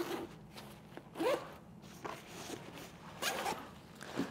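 Zipper on a Kriega Max28 expandable motorcycle backpack being opened, several close, raspy pulls in short bursts separated by brief pauses and light fabric handling, fairly quiet overall.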